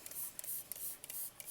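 Spray bottle of homemade soapy water, made from a plain bar of soap, being pumped in a quick series of short, hissing bursts, about five or six sprays close up with no talking.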